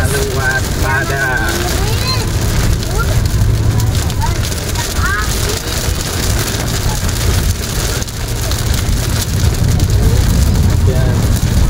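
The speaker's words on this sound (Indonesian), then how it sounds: "hujan makin jadi deras" Heavy rain drumming steadily on a car while driving, a dense, constant hiss and patter over low road rumble, with a person talking throughout.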